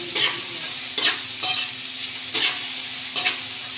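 Tomatoes fry in a pan under a constant sizzle, while a utensil stirs them in about five sharp scraping strokes spread unevenly across the clip, close and without talk.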